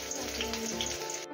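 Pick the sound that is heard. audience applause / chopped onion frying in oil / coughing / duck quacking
chopped onion frying in oil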